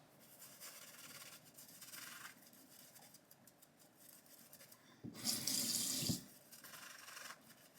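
Tap water runs into a sink while a shaving brush is rinsed, starting as a soft, intermittent trickle and then swelling into a brief loud gush near the end before easing off.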